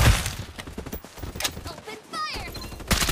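Gunfire in the Farlight 84 shooter game, bursts of rapid shots mixed with game effects and chatter, fairly close and moderately loud.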